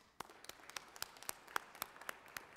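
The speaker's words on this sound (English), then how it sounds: "Y'all please welcome them with a round of applause." A round of applause in the Georgia Senate chamber, with scattered individual claps rather than a dense roar, heard fairly faintly for a few seconds.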